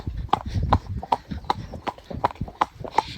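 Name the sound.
cob horse trotting, hooves clip-clopping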